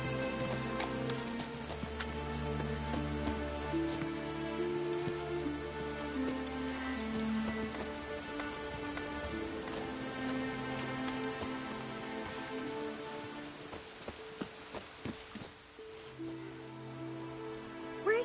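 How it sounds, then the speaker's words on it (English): Steady rain falls in the video game The Witcher 3, a continuous dense patter that carries on throughout at an even level, with faint hoof clops in the background. "Maybe we needed a spot of rain."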